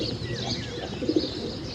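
Soft cooing of pet pigeons being released to fly from home, a brief low murmur with faint chirps mixed in, against a light background hum.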